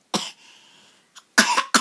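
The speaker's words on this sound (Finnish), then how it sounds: "Onko sulla yskä?" A child coughs in short, close, loud bursts: one cough, a pause with a faint breath, then two more coughs near the end.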